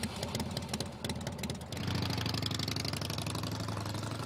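A sidecar motorcycle engine on a tour around Hobart, Tasmania, idling with a steady low throb before revving up and settling into a louder, continuous running drone, close by and with no talk.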